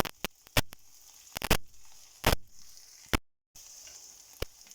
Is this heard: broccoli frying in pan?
yes